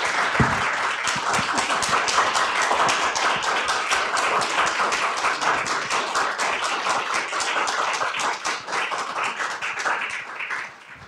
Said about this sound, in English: for us all to give our panelists a heartfelt round of applause